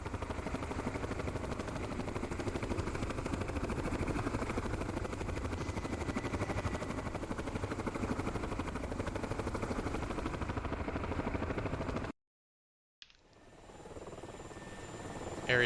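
In a video game, an aircraft, probably a helicopter, flies with a steady droning rotor and engine hum that holds for about twelve seconds, cuts to silence, then fades back in more faintly.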